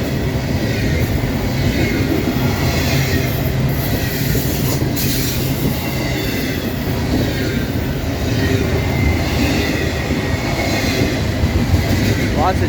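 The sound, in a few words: long freight train with JB Hunt double-stack containers passing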